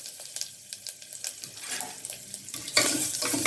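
Hing and curry leaves dropped into hot oil in a pot, light crackling and spattering that builds into a louder, bright sizzle near the end, close by with no talking.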